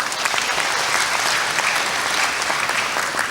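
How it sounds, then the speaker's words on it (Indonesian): A graduation audience at Institut Teknologi Bandung in an indoor ceremony breaks into sustained, dense applause that is loud and steady throughout. "Silakan tepuk tangan lagi."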